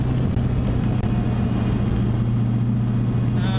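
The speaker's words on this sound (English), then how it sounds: "so I like revving it a little bit" An LS2 V8 swapped into a BMW E30 holds a steady, loud, droning idle-to-rev note with a deep rumble, close up and continuous, with no talking.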